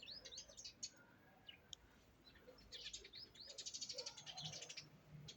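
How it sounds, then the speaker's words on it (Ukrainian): Birds chirp and sing at sunset in autumn in quick, overlapping high twitters, moderately close, with quiet outdoor background. "Чи вам чутно, чи ні, як пташки співають."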